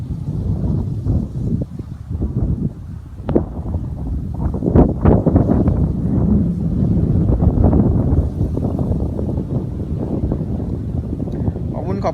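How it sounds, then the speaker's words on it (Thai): Strong wind blows outdoors, roaring steadily across the whole stretch in loud rumbling gusts that buffet the microphone. "วันนี้ลมแรงครับพี่"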